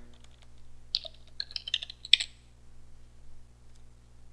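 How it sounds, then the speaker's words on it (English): A computer keyboard clicks in a short burst of quick keystrokes near the middle, with a quiet electrical hum running underneath. "You're going to have to type in your root password."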